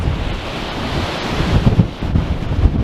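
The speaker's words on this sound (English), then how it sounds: "I nearly got blown over then. The wind is against my back" Strong wind buffeting the microphone on Blackpool's seafront promenade at high tide, with waves rushing and surging below in a loud continuous roar, no talk.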